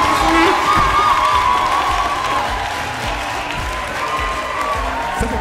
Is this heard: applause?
yes